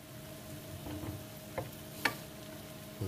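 Shallots, garlic and sun-dried tomato sauté in a pan with a faint, steady sizzle, broken by a few soft stirring scrapes and one sharp utensil tap near the end.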